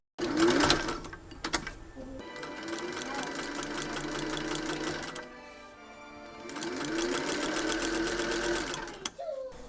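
A sewing machine stitches a ballerina wrap skirt in rapid mechanical bursts, pausing and restarting, close and steady with a brief slowdown in the middle.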